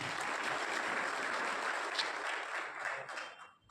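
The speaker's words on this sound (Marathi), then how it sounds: "त्या सर्वांचे आपण टाळ्या वाजवून आभार मानतो" An audience at a big public meeting in Nanded, Maharashtra claps in thanks, a steady, fairly distant wash of applause that dies away at the close.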